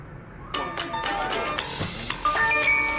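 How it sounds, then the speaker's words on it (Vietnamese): A mobile phone rings with a bright melodic ringtone of repeating electronic tones that starts abruptly after a short silence and plays on loudly, with speech around it. "Sao đang học mà em để chuông điện thoại vậy?"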